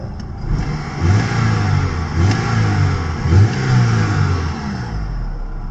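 A Mitsubishi Galant VR4 engine runs close by while warming up on ramps before an oil change, with a steady mid-pitched hum that swells in a few mild revs and then settles back. No voices are heard over it.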